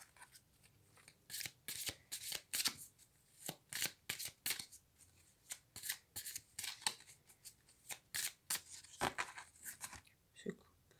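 A deck of tarot cards is shuffled and cut by hand in a series of crisp, rhythmic riffling bursts, close and fairly loud, with short pauses between them and no speech.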